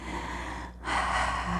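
One deep breath drawn in and released, close and quiet, with a brief pause between inhale and exhale.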